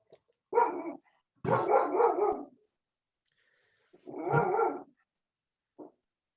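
A small female dog gives several short close barks with a growly edge, spaced by pauses, in an otherwise quiet room.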